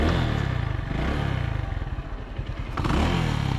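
A Runner Bolt 165R motorcycle engine runs close by with a rough, pulsing mid-pitched throb that dips slightly in the middle, then picks up again as the throttle rises near the end.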